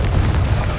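A Confringo blasting spell goes off in Hogwarts Legacy as one loud, deep, rumbling explosion that fills the whole short moment.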